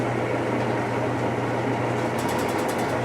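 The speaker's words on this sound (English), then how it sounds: "Sound you're hearing is just this metal vacuum plate" Metal vacuum plate shaking on a machine being unwinterized for the season, a loud steady mechanical rattle and hum, with a faint rapid ticking joining near the end.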